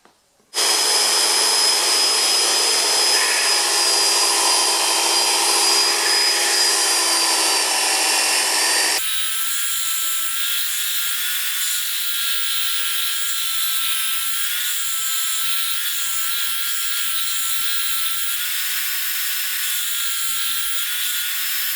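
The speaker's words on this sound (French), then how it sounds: "je vais utiliser ma ponceuse à bande en stationnaire pour arrondir tous les angles" A stationary belt sander rounding the corners of wooden hinge pieces runs loud and continuously, a harsh grinding hiss that changes tone partway through and then carries on steadily.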